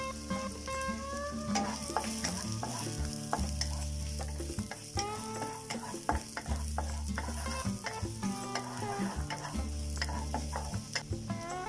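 Garlic, coriander root and spring onion stir-fried in a hot pan for braised pork belly with soy sauce, with a steady loud sizzle under repeated scraping and clanking stirs throughout, no talking.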